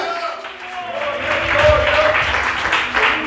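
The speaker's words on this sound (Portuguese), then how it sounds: "Você pode aplaudir e exaltar a Deus por isso" A church congregation applauds during a sermon, sustained clapping swelling midway over organ or keyboard tones and a voice speaking.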